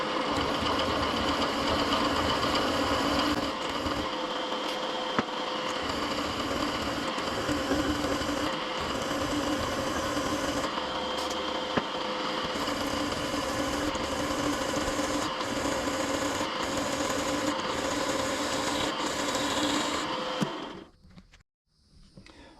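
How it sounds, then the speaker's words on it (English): A drill press bores a hole through a Foxbody brake pedal, a continuous whirring motor drone broken by small irregular knocks, cutting off abruptly near the end. "I can just clamp this in here and drill it with that"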